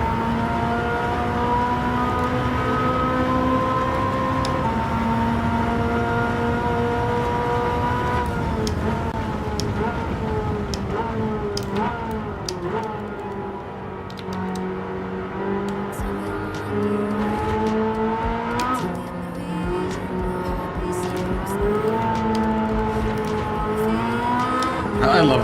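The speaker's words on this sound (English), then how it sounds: "this Ferrari feels really nice" A Ferrari race car in Gran Turismo 7 holds a steady, loud engine drone, its pitch rising and falling through gear changes and cornering for the whole stretch, with a voice talking over it now and then.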